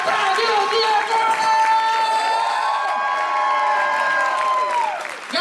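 A live crowd at a party cheers and whoops loudly, with shouting voices and a sustained high call over scattered clapping throughout.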